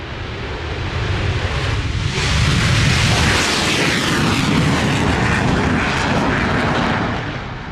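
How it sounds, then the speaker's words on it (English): A loud, sustained F-16 fighter jet roar builds and rumbles steadily for several seconds during takeoff at an air show, broad and powerful, with no voices over it. "Slightly different looking F-16, as I'm sure you can tell right now."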